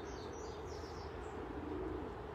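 Racing pigeons coo softly in a loft, a low steady murmuring hum of several birds blending together with faint chirps, quiet and continuous with no talking.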